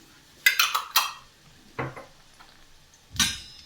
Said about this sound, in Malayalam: അതൊക്കെ ഒന്ന് ഇളക്കി കൊടുക്കാം.